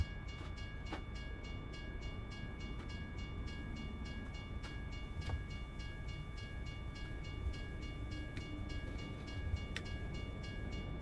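A train rolls past in American Truck Simulator, its wagons clattering in a steady rumble with faint tonal ringing and periodic clicks, continuous and fairly close, no voices.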